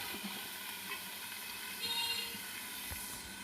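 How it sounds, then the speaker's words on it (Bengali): Spices sautéing in a covered pan, a steady soft sizzle and hiss throughout, quiet and continuous, with no talking. "কষাতে দিলাম কষাতে দিয়েছি মশলা দিয়ে ঢেকে রাখলাম"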